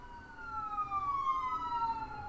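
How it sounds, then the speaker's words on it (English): A wailing emergency siren with long sweeping tones rises and falls over steady road rumble, growing slightly louder as it approaches. "It sounds like an ambulance."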